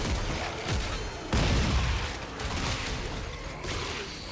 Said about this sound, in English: Use my other gun. Shotgun.